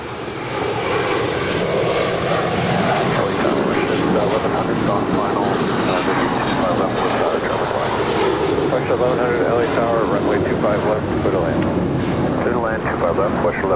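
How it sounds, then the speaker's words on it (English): A JetBlue Airbus A321 jet departing LAX bound for JFK, a loud, sustained roaring engine rush with wind buffeting throughout, while people talk over it. "Our next departure is a JetBlue A321 heading to JFK"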